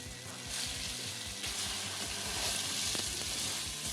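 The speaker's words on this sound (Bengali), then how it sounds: "তেলটা হয়ে গেছে, এবার মাখিয়ে রাখা কাঁঠালের বীজটা দিয়ে দেবো।" Marinated jackfruit seeds hitting hot mustard oil in a pan, a dense, steady sizzle close by with faint stirring, no voices.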